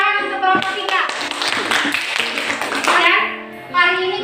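A classroom of students claps for a group of classmates, a dense burst of applause lasting a few seconds before it thins out, with a voice and some children's chatter mixed in.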